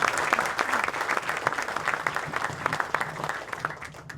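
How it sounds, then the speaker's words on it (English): An outdoor audience at a groundbreaking for a regional health science education center gives a dense, continuous round of applause that fades toward the end. "that deserves a round of applause"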